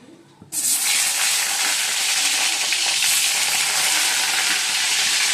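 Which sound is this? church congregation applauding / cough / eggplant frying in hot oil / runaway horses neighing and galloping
eggplant frying in hot oil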